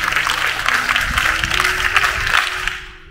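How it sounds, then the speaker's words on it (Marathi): An audience at a religious discourse during a tree-procession ceremony breaks into a dense, continuous wash of clapping that holds steady for a few seconds, then fades out. "त्यांच्यासाठी एकदा जोरदार टाळ्या वाजवा"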